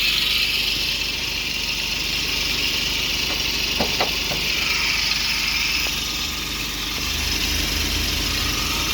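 Suzuki Jimny JB23 with its K6A three-cylinder turbocharged engine idling, a steady close mechanical hum and rumble with light rattling, a few faint knocks partway through, and no talking.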